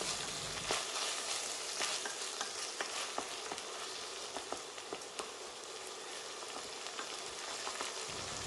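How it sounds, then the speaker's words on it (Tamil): Tomato sautéing in a pan for brinji rice, a steady close sizzle and crackle with scattered pops and occasional stirring scrapes, continuous throughout with no voices. "ஒரு தக்காளி நீளமாக கட் பண்ணி வச்சுருக்கேன், இதையும் சேர்த்து வதக்கிக்கலாம்."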